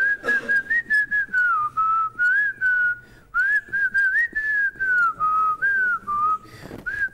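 A woman whistles a song on her own, a clear, close melody in short phrases with brief breaths and pauses between them.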